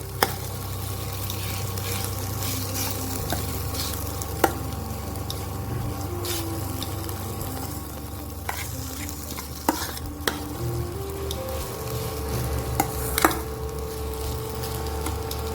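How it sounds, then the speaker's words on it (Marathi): Stuffed chili masala for Maharashtrian bharli mirchi frying in a pan, heard as a continuous close sizzle with repeated stirring scrapes and scattered sharp utensil clicks over about fifteen seconds, without speech. "हे परतून घेऊया."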